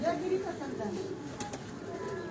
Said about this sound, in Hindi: ये उसी जो कबूतर थोड़ी देर पहले आप देख रहे थे उसकी बहन है, ये मादा है।